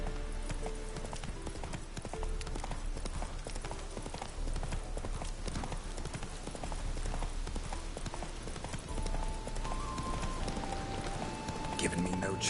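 Roach, the horse in The Witcher 3 Wild Hunt, trotting with steady close clip-clop hoofbeats over a soft rain-like background hiss, a voice speaking now and then over the hooves.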